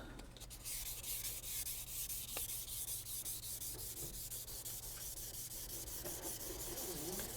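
Sandpaper scuffs the back of a wooden guitar neck in a steady, continuous rasping rub, close and fairly loud, with a quick rhythmic back-and-forth stroke and no talking.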